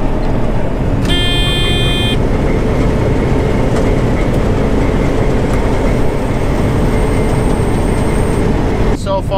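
A combine's corn header is engaged and running during a custom corn harvest, a steady loud mechanical roar with a few brief tonal beeps early on and a clatter near the end, no talking.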